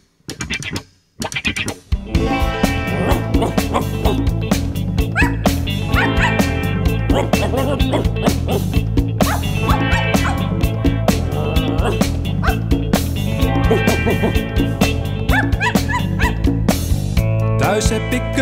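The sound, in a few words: imitating a dog barking, woof woof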